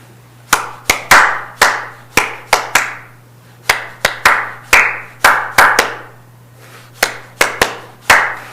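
Sharp, close hand claps tap out the rhythm of the Happy Birthday song, in grouped bursts with brief pauses between phrases and a low steady hum underneath.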